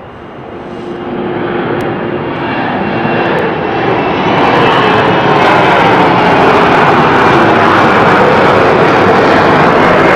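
Fixed-wing airplane engine at London City Airport, a steady broadband roar that swells louder over the first few seconds and holds near and loud to the end, with no talking.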